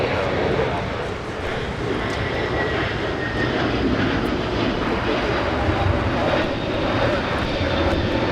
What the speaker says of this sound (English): So it's United 2487 headed to Chicago O'Hare with the A321neo.